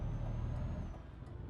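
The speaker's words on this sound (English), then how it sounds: "Too heavy on the brake." A heavy truck braking in Euro Truck Simulator 2, a Modern Lines cab hauling a Feldbinder trailer, giving a low steady engine rumble with a hiss of air brakes, fairly close and without talk.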